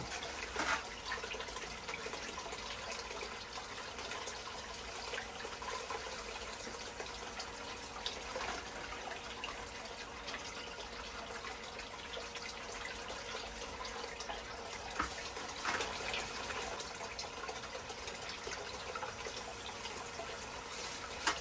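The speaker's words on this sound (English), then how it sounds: "Kind of hard to adjust this water flow." Steady running water flowing and splashing continuously through a gold panning sluice, a constant broadband rush with no pauses and no voices.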